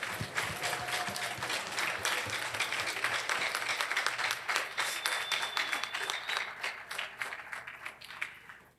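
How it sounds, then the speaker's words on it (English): An audience at a diplomatic address on US–Nigeria partnership gives a round of applause, sustained dense clapping that gradually thins and fades toward the end, with faint whistles or tones passing briefly. "I ask you all to join me in a round of applause to thank our USAID colleagues."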